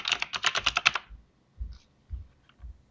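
Typing on a computer keyboard, a quick burst of crisp key clicks followed by a few isolated keystrokes spaced apart, close and clear with no talking.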